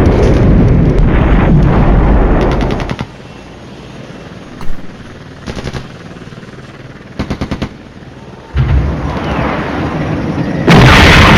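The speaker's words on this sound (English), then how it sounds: "Here comes our artillery." Artillery fire in the video game Flashpoint Campaigns: loud, dense rumbling barrages come in several bursts, broken by quieter gaps with rapid crackling rattles, then swell again to a heavy roar at the end. No speech is heard.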